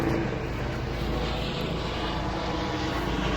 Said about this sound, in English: Oh, there's my helicopter.